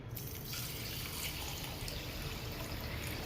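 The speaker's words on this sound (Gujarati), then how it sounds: "1 કિલો એક ખાંડમાં 700 ગ્રામ પાણી નાખશું" Water pours steadily into a vessel of sugar for syrup, a continuous close splashing gush lasting throughout, without any talking.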